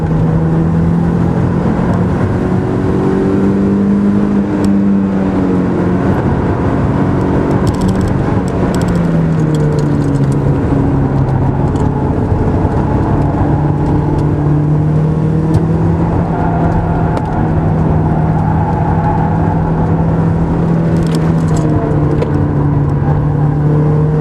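Race car at full throttle on the Magny-Cours circuit, a loud in-cabin engine drone rising and falling in pitch through gear changes and corners for over twenty seconds, continuous and close with no talk.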